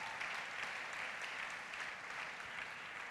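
Church congregation applauding during a worship service, a soft, even wash of clapping heard from a distance with no clear breaks.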